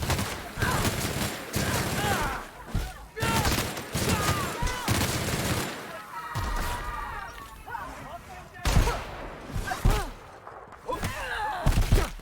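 Gunfire from The Outer Worlds video game, repeated bursts and single shots from weapons in combat, mixed under ongoing game speech and voices throughout.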